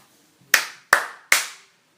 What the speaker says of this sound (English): she's gonna come and record her own claps